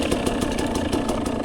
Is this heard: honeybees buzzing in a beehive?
no